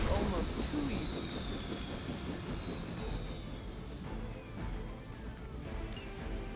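Helicopter in the video game Marvel's Midnight Suns, a broad roaring rotor and engine wash under battle noise, with metallic scraping and a crash-like rumble running throughout, fairly loud and steady.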